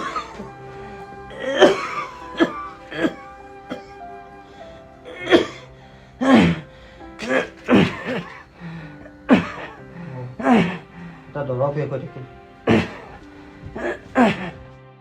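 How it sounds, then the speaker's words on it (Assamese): An elderly heart patient coughs repeatedly in harsh, irregular fits, with short gaps and strained breaths between the bursts. "দেউতা তই ইমানকে কাহি আছ যে"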